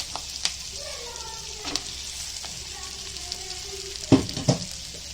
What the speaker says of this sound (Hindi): अभी अच्छे से उसको भून के लेंगे, बारीक गैस से अच्छे से भून के लेंगे